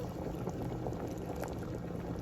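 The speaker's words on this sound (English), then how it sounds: "We have our penne boiling." Penne pasta boiling in a pot, a steady close bubbling and rolling simmer of water that runs evenly throughout with no talk over it.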